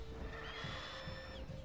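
A horse in the video game The Witcher 3 lets out a brief neigh over a steady background hum of game audio.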